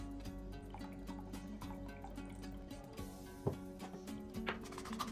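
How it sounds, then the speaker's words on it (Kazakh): Oil trickles and drips into a yeast dough mixture of warm water, sugar and salt, a soft close liquid pouring with small splashes, faint and continuous without speech. "Майымызды құямыз."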